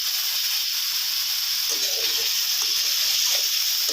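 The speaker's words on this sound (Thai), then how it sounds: "เติมน้ำสุกลงไปนะครับ" Water poured into a hot pan of bacon and glass noodles being stir-fried over high heat, giving a steady close hiss and sizzle that lasts the whole stretch with no pause.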